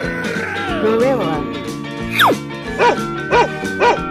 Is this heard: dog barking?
yes